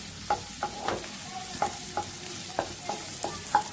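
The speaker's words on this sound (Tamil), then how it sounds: "ரொம்ப வேகப்படாது, மிளகாய் கொஞ்சம் வதங்கட்டும், மிளகாய் சீக்கிரம் வதங்கிடும்." Green chilies sauté in oil for veg fried rice, with soft sizzling under a series of distinct spoon or spatula stirs and scrapes against the pan at an uneven rhythm. No one speaks.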